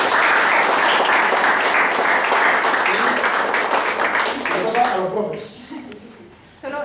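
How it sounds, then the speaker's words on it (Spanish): A roomful of people applauds to open a training course, a loud steady wash of clapping for about five seconds that fades out, with talking rising underneath as it ends. "Bienvenidos, un aplauso para todos."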